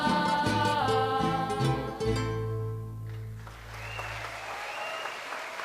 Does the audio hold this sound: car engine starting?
no